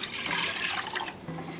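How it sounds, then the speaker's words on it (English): Pork stock pours into a cooking pot in a continuous splashing stream, close and fairly loud, easing off near the end. "I'm going to go ahead and pour in the pork stock first."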